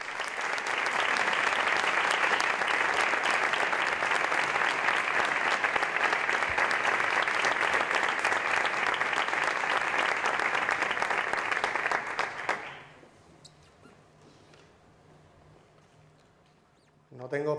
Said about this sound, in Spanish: Les pido un fuerte aplauso con todos ustedes, Lorenzo Otero Castillo.